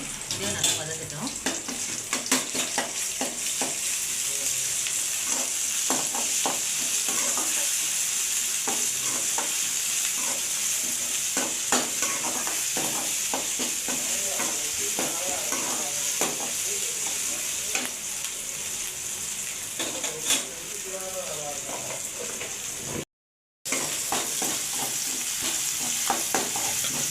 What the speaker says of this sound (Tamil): இஞ்சி பூண்டு பேஸ்ட் கொஞ்சம் போட்டுக்கலாம். இதையும் நல்லா வதங்கிட்டோம்.